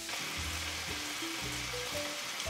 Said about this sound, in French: on a notre viande qui commence à frémir